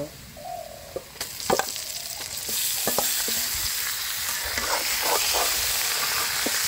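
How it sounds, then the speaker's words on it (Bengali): Snakehead fish pieces go into a pan of browned onions frying in oil, a steady loud sizzle swelling as the fish lands, with scattered stirring scrapes and clatters and no voices. "পেঁয়াজগুলো বাদামি কালার হয়ে গেছে, এখন আমি মাছগুলো দিয়ে দেব।"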